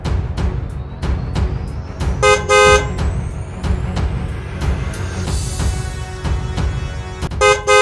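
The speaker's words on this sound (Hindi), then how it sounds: "लेकिन फ्रेडी गाड़ी को फुल स्पीड में चला रहा होता है" A cartoon car speeds along at full throttle, with rapid rhythmic thumps and clatter, a rising whine and several short sharp horn-like toots, loud and busy with no speech.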